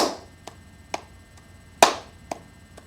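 A single pair of hands claps a slow, steady beat in a music lesson on meter: about six sharp, close claps, one clearly louder accented clap standing out among the quieter ones, with no talking.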